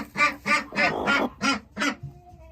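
Six rhythmic, nasal peeping calls from a chick inside a hatching egg, fairly close, followed by a quieter trailing tone.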